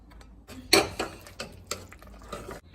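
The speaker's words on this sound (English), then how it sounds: "Next, we're going to mash the potatoes." Potatoes mixed with sausage and onion are mashed in a pot, giving a few sharp clacks and soft squelching knocks in an uneven rhythm, close, with no talk.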